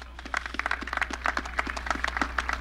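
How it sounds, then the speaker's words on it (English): An audience at the West End groundbreaking ceremony applauds in a steady round of clapping, many hands patting in dense overlapping bursts at moderate distance, with no talk over it. "Please give them a round of applause"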